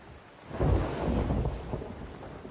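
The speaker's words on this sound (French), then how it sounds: "J'avoue que c'est un peu chiant la tempête." Stormy sea in the pirate game Sea of Thieves: a broad roar of wind and rumbling thunder swells in after a quiet half second and holds steady at moderate loudness, with no talking.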